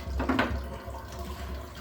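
Water runs steadily from a bathtub tap that still flows after being pulled off, a continuous close splashing hiss with no talk.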